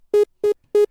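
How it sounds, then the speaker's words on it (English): Three short, identical synth beeps from a stock Resynth patch layering square and sawtooth waves, evenly spaced and bright, each lasting about a tenth of a second, loud and isolated against silence. "which in this case is what you're hearing is this resynth"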